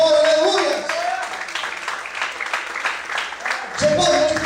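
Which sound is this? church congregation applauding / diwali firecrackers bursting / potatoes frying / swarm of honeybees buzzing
church congregation applauding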